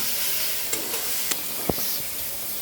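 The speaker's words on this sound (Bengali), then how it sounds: "মশলাটাকে আমি একটু ভাজা ভাজা করে কষে নিয়েছি" Egg roast spice paste sizzles softly in a pan with little oil while a spoon scrapes and taps against it a few times, close and fairly quiet.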